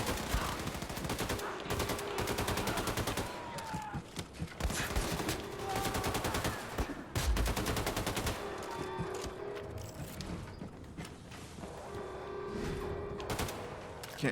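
Wolfenstein 2 video game gunfire, rapid bursts of automatic shots in repeated volleys with brief gaps, loud and close, a game soundtrack and sound effects layered underneath.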